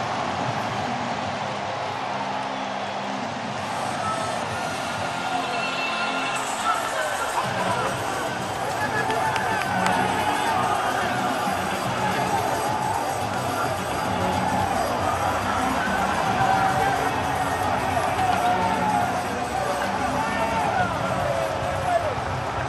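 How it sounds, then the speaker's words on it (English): A sellout baseball crowd at a Yankees game roars after a home run, a sustained loud cheer that swells and carries on for many seconds, with a commentator talking over it. "Sellout crowd loving it."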